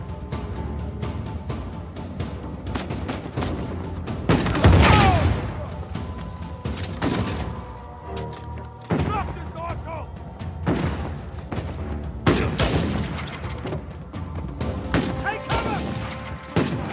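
Shotgun blasts and heavy gunfire boom repeatedly through a firefight in Uncharted 4, loud and spaced at irregular intervals, with voices calling out between shots.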